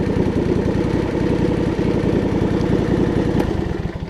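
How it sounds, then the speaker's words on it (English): A John Deere LX279 lawn tractor engine idling, a steady close-up rhythmic chugging putter that stays even and loud for the whole stretch. "And it'll idle too."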